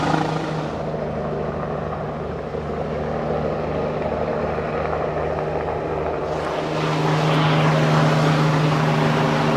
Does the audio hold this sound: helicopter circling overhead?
yes